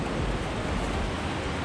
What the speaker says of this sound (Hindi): वाटरफॉल, बहुत बड़ा वाटरफॉल है कंजोती का, काफ़ी खूबसूरत झरना है।